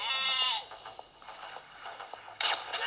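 Sheep bleats from a shooting video game, a clear close bleat at the start followed by quieter clatter and a sharp burst near the end.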